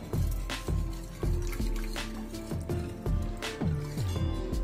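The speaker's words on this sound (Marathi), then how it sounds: "आपण आता हे सगळं दूध टाकून देणार आहोत आणि याला मिक्स करणार आहोत" Milk is poured into a pan of flour-and-butter roux for white sauce pasta, giving steady liquid splashing and dripping with repeated stirring knocks, close and moderately loud, with no talk.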